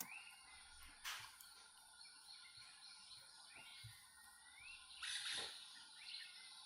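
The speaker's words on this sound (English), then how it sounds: "There's an Aztec parakeet calling there." An Aztec parakeet calls in Guatemalan forest, with faint, distant squawks and chirps rising over a steady hum of insects and other birds, all quiet and far off.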